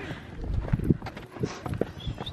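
Horse hooves clip-clop along a trekking trail in Taal, Batangas, a few distinct, uneven hoof strikes at close range over a steady outdoor background, with no talk in between.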